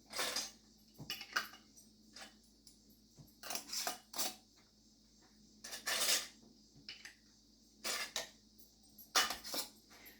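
Metal lids and screw rings clink and rattle onto glass canning jars filled with roasted green tomato salsa verde, several separate bursts of clatter spaced between quiet pauses.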